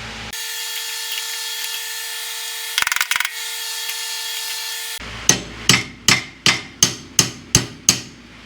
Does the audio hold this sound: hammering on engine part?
yes